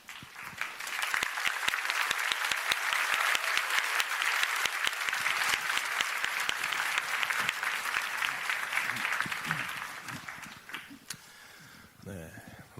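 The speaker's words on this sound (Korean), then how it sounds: "우리 목사님 나오실 때 박수 부탁드립니다." Sustained applause from a church audience greeting a pastor, loud and dense for about ten seconds before thinning into scattered claps near the end.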